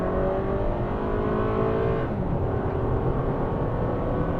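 A Toyota Camry in sport mode accelerates hard toward 70 mph on a highway near Sacramento, heard from inside the cabin as a steady engine drone and road roar that shifts tone about halfway through.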